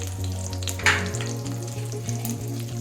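Mustard seeds and green chilies sizzle steadily in hot oil in a home kitchen for a chutney. The frying hiss holds close and continuous, with one brief louder burst near the start and a faint low hum underneath.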